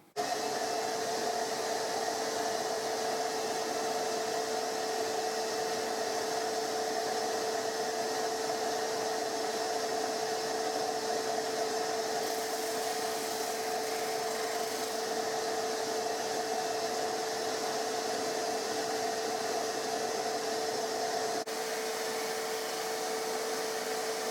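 A thickness sander cleaning up a mandolin top after its epoxied rosette has set runs in a steady, even drone with a strong tonal hum, continuous for over twenty seconds with no talk.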